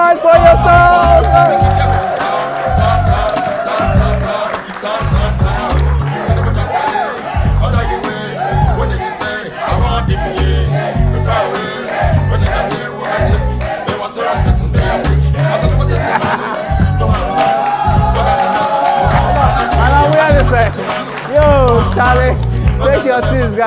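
A club crowd shouts, whoops and cheers over pounding dance music with a heavy thumping beat, the noisy excitement swelling and falling throughout while a voice calls out to them.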